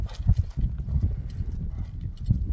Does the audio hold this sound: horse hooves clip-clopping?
yes